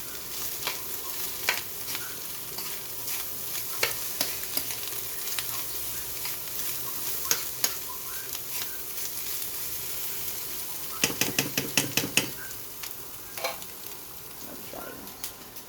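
Dry imported corned beef fries in a pan, a constant crackling sizzle punctuated by scraping stirs and a cluster of sharp spatula clacks against the pan.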